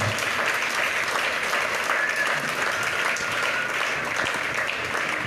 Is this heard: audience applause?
yes